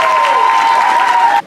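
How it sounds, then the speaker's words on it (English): Audience applause for the parents at a university football signing day, a dense burst of clapping that holds steady and then stops abruptly. "let's give a round of applause to our parents."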